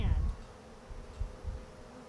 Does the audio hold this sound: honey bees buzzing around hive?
yes